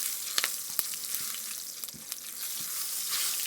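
Cumin, cinnamon, cloves and bay leaf toasting in a hot pan, a steady soft sizzle with scattered small pops and crackles, close and fairly quiet.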